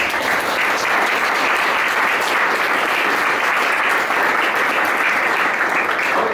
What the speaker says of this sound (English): let's get a round of applause for the panelists